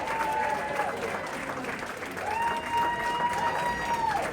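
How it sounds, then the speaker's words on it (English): Comedy show audience at a Comedy 4 Cancer benefit claps in a steady wash of applause, fairly distant and moderate, with a voice speaking over it and a tonal hum in the background. "Everybody start clapping right now."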